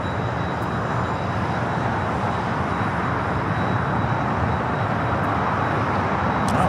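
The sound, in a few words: Japan Airlines A350-1000 arriving at LAX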